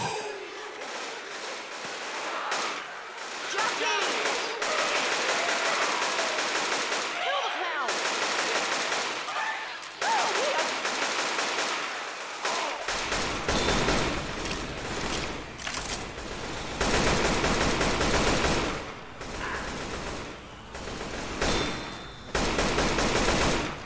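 Gunfire in the co-op zombie shooter Left 4 Dead 2, with bursts of automatic weapons fire that grow heavier and more continuous halfway through, mixed with game noise and occasional voices.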